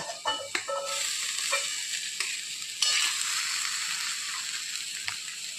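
Cooked rice tips into a hot pan for fried rice, setting off a steady, bright sizzle with scraping and stirring clatter, a few sharper knocks near the start and partway through, and no talking.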